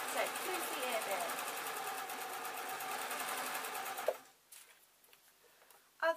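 A sewing machine stitches an owl's floofy ear piece in a steady, close mechanical whir that runs for about four seconds, then stops, leaving faint handling noises and a brief final burst.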